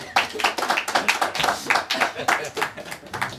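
A small crowd at an intimate live acoustic music venue claps for a round of applause, a loose, uneven patter of hands rising and falling, with talk mixed in.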